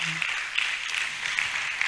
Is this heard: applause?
yes